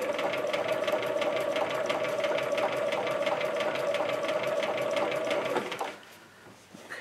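A sewing machine stitching through denim on bell-bottom jeans runs in a steady, fast mechanical whir close by for about six seconds, then stops abruptly, leaving quiet handling noise.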